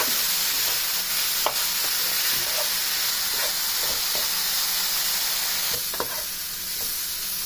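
A grated carrot and sugar mixture cooks in ghee over a low flame, giving a constant sizzle and hiss, with intermittent scraping taps as it is stirred in the pan.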